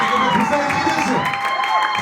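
A church congregation at an album launch claps and cheers for the Lord, a short burst of crowd noise with whoops and raised voices mixed with a sustained vocal tone.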